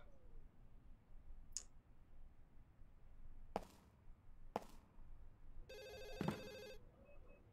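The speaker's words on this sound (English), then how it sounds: "Fuck off, phone." A telephone rings in Ju-On: The Grudge on the Wii, one bright ringing burst late among scattered clicks and knocks over a low ambient hum.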